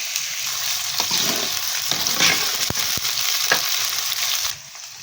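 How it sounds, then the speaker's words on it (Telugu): Sliced onions frying in oil, an even close sizzle with sharp stirring knocks and scrapes from a utensil, easing off at the end, no speech. "ఉల్లిగడ్డ వక్కలను అయితే మంచిగా నూనెలా ఏగేంత వరకు వేయించుకోవాలి మంచిగా"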